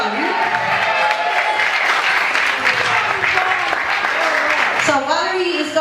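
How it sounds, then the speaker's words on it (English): A live audience at a recovery gig in Ballymun breaks into sustained applause, steady and fairly loud throughout, with the clapping mixed with crowd noise and voices that suggest people talking or cheering underneath. "I want to give this person a big round of applause."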